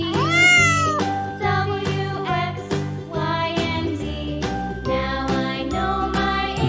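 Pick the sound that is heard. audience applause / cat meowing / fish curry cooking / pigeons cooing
cat meowing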